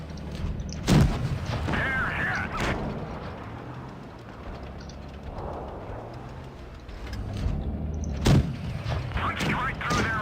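Two heavy tank cannon shots boom out in World of Tanks Blitz, one early and one near the end, over steady game rumble with someone talking throughout.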